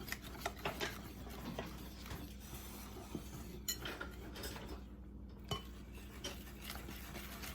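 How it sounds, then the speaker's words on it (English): Sweetened condensed milk is stirred into a bowl, with a quiet rhythm of spoon scrapes and light clinks against the sides, close and soft, and no talking. "So we mix the sweetened condensed milk in."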